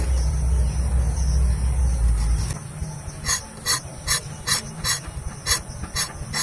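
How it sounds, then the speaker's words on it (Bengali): Green skin is scraped off pointed gourds (potol) by repeated rubbing, a series of short, rhythmic rasping strokes heard close after a steady low hum, with no talk. "পটলের যে উপরে যে সবুজ ছালটা ওটা ভালো করে ছাড়িয়ে নেব"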